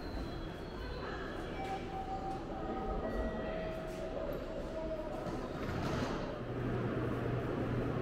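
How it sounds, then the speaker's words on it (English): The Nishi Kyushu Shinkansen Kamome bullet train glides into the platform at Takeo Onsen with a rising rush of wheels and air, faint high tones and a low rumble under station ambience and voices. "And here it is, wow, the Nishi Kyushu Shinkansen."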